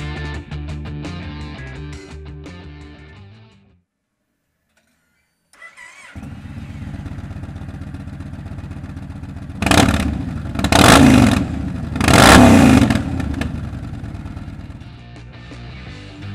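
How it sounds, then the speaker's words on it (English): Engine of a 2013 Yamaha XV1900 Raider cruiser motorcycle with drilled stock mufflers, idling loud and close with a brief silent gap, then several sharp throttle blips rising above the steady rumble. "This bike has been upgraded with stock mufflers that have been drilled for increased sound"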